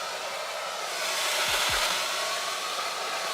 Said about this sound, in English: Maybe we should grab a blow dryer, you know, I don't know. And we're gonna start drying.